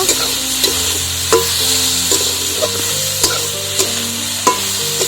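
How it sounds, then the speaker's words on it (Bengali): Eggplant fries in a covered pan while a spatula stirs it, giving a steady close sizzle broken by regular scraping knocks against the metal, with no talking. "আবারও বেগুনটাকে একটু নাড়াচাড়া করে নেব"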